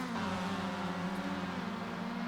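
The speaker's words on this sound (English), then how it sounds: "Listen to those cars scream. That is an RX-7 rotary engine." A Mazda RX-7 race car's rotary engine screams at a steady high pitch, a buzzy rotary whine holding constant, heard from a distance at Tsukuba circuit with no talking.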